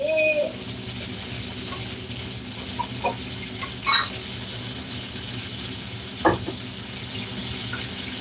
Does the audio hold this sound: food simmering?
yes